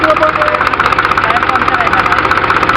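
A tractor engine runs steadily and close by at night, its idle beating in an even, rapid knocking pulse that never lets up.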